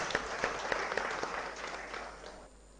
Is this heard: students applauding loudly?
yes